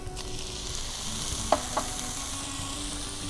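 Chicken frying in a pan gives a steady close sizzle, and tomatoes drop in to two quick stirring clatters midway while the frying hiss carries on without any voices.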